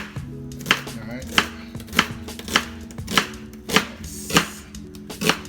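Knife chopping white onions on a cutting board, a steady series of sharp, close chops about every half second under a faint background hum, with no talking.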